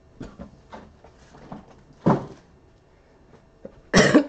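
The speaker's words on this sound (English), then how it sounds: "we're probably going to have a few hacking, coughing incidents before we get through the night" A person coughs indoors in several short, sharp bursts, with a stronger hacking cough midway and a louder, harsher fit near the end, over faint background noise.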